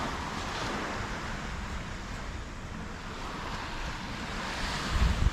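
Small waves wash gently in a sheltered little bay on Magnetic Island, a soft continuous hiss with wind rumbling across the microphone and a louder gust near the end.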